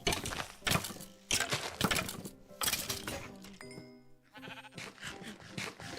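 Sheep in a video game bleat several times in quick succession, loud, wavering cries separated by short gaps, with a few game clicks between them.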